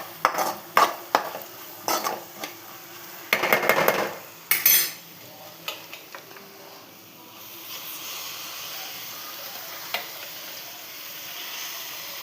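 Washed, chopped gongura leaves stirred into a pan, with a run of close spoon-on-metal scrapes and clinks over the first five seconds, then a soft steady cooking hiss with occasional light taps.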